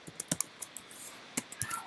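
Computer keyboard being typed on, a close, light series of separate key clicks at an irregular pace, with a short pause partway through; no voices.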